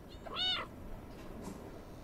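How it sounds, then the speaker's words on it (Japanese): A cat in the video game Stray lets out a single short, bright meow, moderately close over a low steady game ambience, followed by faint soft sounds. "にゃーやぞ。"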